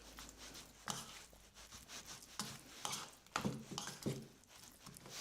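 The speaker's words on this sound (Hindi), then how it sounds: "पहले इसको अच्छे से मिक्स कर लेंगे।" Cauliflower and peas being stirred in a pan, a spoon scraping and turning the vegetables in short repeated strokes with a soft sizzle beneath, close and fairly quiet.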